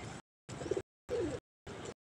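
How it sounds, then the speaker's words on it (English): Pigeons cooing close by where birds are being fed, four short throaty coos in an even rhythm with silent gaps between them. "There's lot pigeons. There's some more pigeons."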